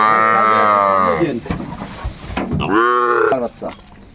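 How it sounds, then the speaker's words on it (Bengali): A young bull calf at a cattle market lets out two loud, drawn-out moos close by, the second shorter, with brief market noise between them. "এটা ষাঁড় বাচ্চা"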